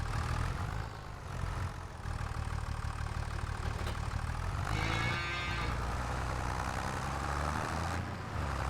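Cattle mooing in the Farming Simulator 25 video game, several drawn-out lowing calls heard over a steady idling engine drone, fairly loud and close, with no talking.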